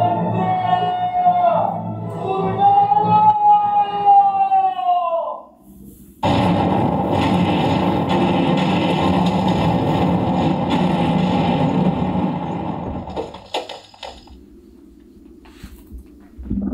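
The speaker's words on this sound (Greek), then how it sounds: "Έγινε εικονική έκρηξη." A simulated blast in a mine tunnel erupts suddenly as a loud, broad roar that holds for several seconds before cutting off, following a stretch of wavering whistle-like tones.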